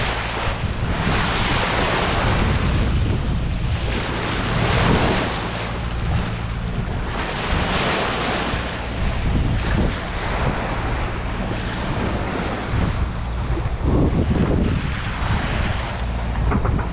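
Sea waves wash and surge around a sailboat at sea while wind buffets the microphone, a dense, loud, continuous roar that swells and eases in slow waves with no voices.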